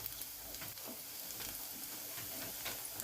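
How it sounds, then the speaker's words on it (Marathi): Onion sizzling in oil in a pan, a steady close crackling fry with faint ticks and pops throughout and no talking. "त्यामध्ये पहिल्यांदा आपण कांदा टाकूया. कांदा थोडा ब्राऊन होईपर्यंत आपण परतून घेऊया."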